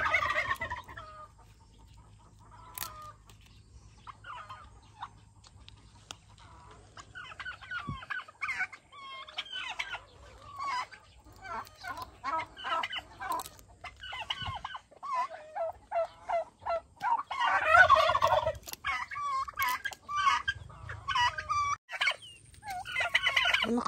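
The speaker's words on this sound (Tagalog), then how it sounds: "Nakasunod sa akin itong mga pabo na to." Backyard turkeys on a rural farm gobble repeatedly in loud, rippling bursts, several birds calling close by and overlapping, with quieter clucking between calls.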